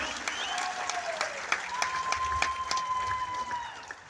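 Audience at a motivational business talk applauding, a scattered burst of claps over a murmuring room, with a thin whistling tone running through.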